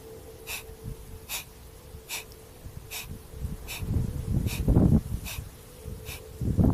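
Kapalabhati pranayama breathing: sharp, forceful breaths out through the nose repeat at a steady pace, about one every 0.8 seconds, close and fairly loud, with softer breath sounds between them.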